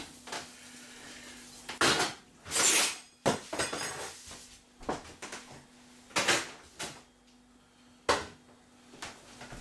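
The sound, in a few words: scraping residue off a plate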